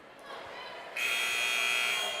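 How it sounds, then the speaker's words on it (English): A warning buzzer sounds at a boys' high school basketball game against Tyngsboro: a loud, sustained electronic tone cuts in partway through and holds steady over gym background noise. "There's a warning buzzer."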